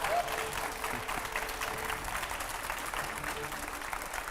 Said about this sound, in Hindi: और जोरदार तालियां हो जाए